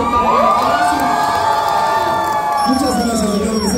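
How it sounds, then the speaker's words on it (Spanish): An anime-expo concert crowd cheers and shouts loudly for the lead singer of an anime music band, with sustained whoops and high voices near and filling the space, but little distinct clapping. "el aplauso para él"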